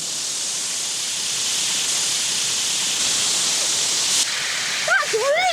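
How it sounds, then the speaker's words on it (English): High-pressure water jets spray steadily at a car wash, a loud, continuous broad hiss close by. A high, whistling tone chirps in near the end. "That is the sound of the water."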